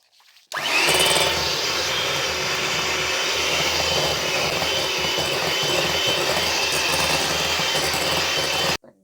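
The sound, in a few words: beating butter and sugar for eggless cake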